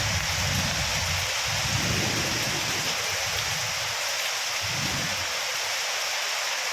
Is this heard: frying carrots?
no